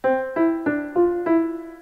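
Five short notes from the GarageBand piano keyboard on an iPhone 5 with sustain turned off, played one after another, each cut off quickly with no ringing sustain, dry and close.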